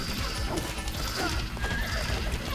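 A horse neighs in the Knight Squad video game, its whinny rising over busy game effects with clip-clop hoofbeats and crashing impacts throughout.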